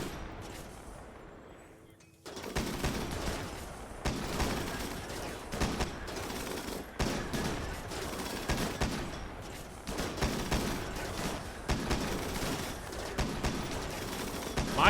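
Colonists in the colony-building game Rimworld (Biotech) open fire together, producing a sustained, chaotic barrage of overlapping gunshots, one of them from a Gauss rifle, that begins abruptly after a quieter stretch.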